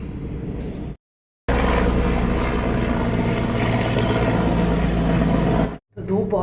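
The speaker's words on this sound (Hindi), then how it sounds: "अभी हेलीकॉप्टर भी मैंने आप लोगों को दिखाया जो कि जा रहा है हिंडन एयरपोर्ट की तरफ।" A helicopter passes overhead in hot sunny weather, heading toward Hindon airport, its broad, steady rotor and engine roar loud and continuous, cutting out briefly twice as though the recording pauses.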